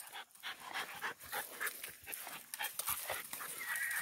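Pit bull puppies pant rapidly and let out high, thin whimpers and whines, close by, in an uneven stream of small noises.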